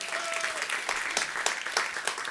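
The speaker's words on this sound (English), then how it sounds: "Give them a round of applause." Audience applause at a Climate Week welcome event, a steady wash of clapping hands from a crowd, moderately distant and sustained throughout without any voices over it.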